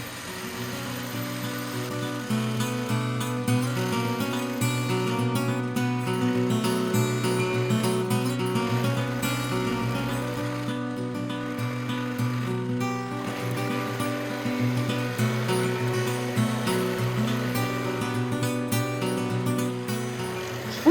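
Tumble Vibe and UV10 rock tumblers polishing Mookaite stones with 220 silicon carbide grit, giving a steady continuous rumbling churn with a constant low hum, running throughout with no talk.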